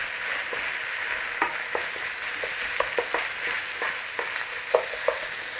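Tomato paste cooking with meat in a pan, a soft continuous sizzle broken by scattered scrapes and light knocks as the mixture is stirred, close and fairly quiet.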